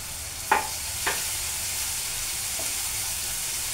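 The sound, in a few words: onions and salt frying in a wok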